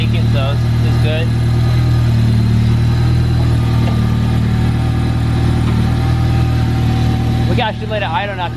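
A Honda K20-swapped car engine idles through its muffler with a steady, loud, low drone held throughout, while people talk briefly near the start and again at the end.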